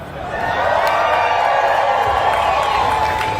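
A rally crowd at a state house cheers and whoops in a loud, sustained roar that swells within the first half second and then holds steady, with scattered shouts and clapping mixed in.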